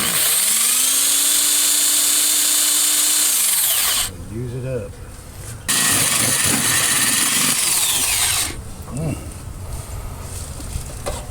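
Power drill boring into trimmed wood during a bee colony removal from a termite-damaged home, loud and continuous whine that spins down and restarts twice, with people talking nearby.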